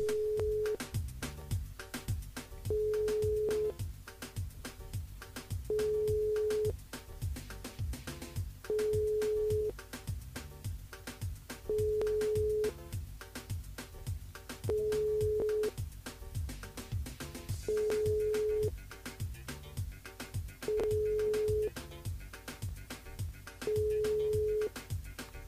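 A telephone busy signal repeats its steady tone in evenly spaced pulses, roughly every three seconds, as an unanswered call plays on a French radio broadcast, faint and alone with no speech.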